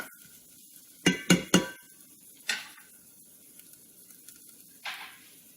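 A spoon clinks and scrapes against a pan while shredded chicken taco filling is mixed, giving three quick sharp knocks, then a softer scrape and another later, over a faint low background.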